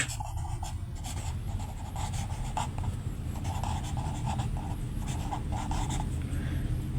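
Pen scratching out a third-grade arithmetic solution on paper, steady strokes and scribbles continuing close by without pause.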